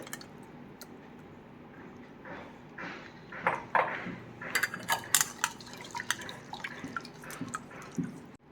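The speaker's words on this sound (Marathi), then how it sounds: "त्यानंतर आपण हे पाणी आहे हे पूर्ण गाळून घेतोय" Tamarind water for tamarind soup is strained, giving soft close drips and wet squishing trickles that grow busier toward the end, with no talking.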